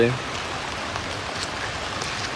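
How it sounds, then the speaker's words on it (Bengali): Steady rain falling outdoors during a monsoon spell, a constant soft hiss of drops on surfaces with no clear pauses, moderately quiet and close. "বৃষ্টি কিন্তু বন্ধ হয় নাই, বৃষ্টি প্রতিদিনে পড়তেছে।"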